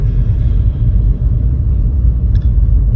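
A car rolls into a workplace lot on a Saturday morning, its engine giving a steady, close, loud low rumble that holds throughout with no speech over it.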